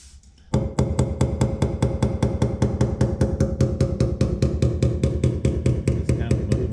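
A hammer taps and reshapes rust-repaired body metal on a 2000 Chevrolet Suburban, a fast, steady stream of sharp metallic blows, close and loud, continuing without pause for several seconds.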